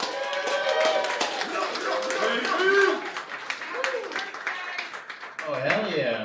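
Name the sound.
audience applauding comedy show host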